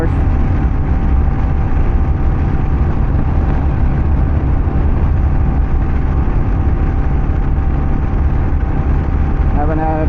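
A KLR650 dual-sport motorcycle carrying two riders cruises steadily at 60 mph, its engine a continuous, even drone mixed with rushing wind noise for the whole stretch.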